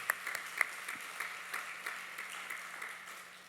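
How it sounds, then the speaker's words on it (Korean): Congregation in a church service giving applause after a youth dance troupe, a sparse, faint patter of scattered individual claps under a low steady hum. "하나님께 영광의 박수 올려드리겠습니다"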